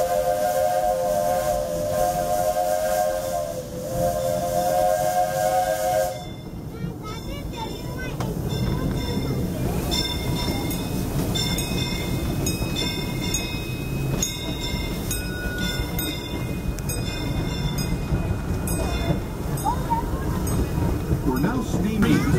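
Disneyland Railroad steam locomotive Fred Gurley No. 3 sounds a long, loud whistle with several sustained tones, then rolls on with steady clanking, rumbling wheels and hissing steam throughout.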